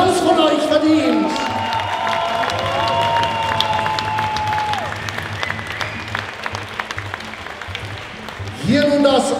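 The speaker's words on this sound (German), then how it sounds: "auch hier haben sich beide Sportler mal einen kräftigen Applaus von euch verdient" A crowd at a Muay Thai fight event applauds and cheers, with sustained clapping and whoops filling the hall while a voice talks over it.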